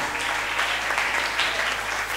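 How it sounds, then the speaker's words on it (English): A church congregation at a worship gathering claps for Jesus, a dense continuous roar of many hands, loud and sustained, filling the room. "I say, clap for Jesus now."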